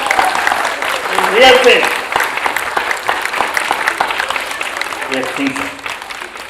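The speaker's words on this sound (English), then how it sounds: "let's have a big round of applause for Sima and associates" An audience at a foundation day event claps across the room, steady applause with a host's voice speaking over it, louder in the first couple of seconds and then settling.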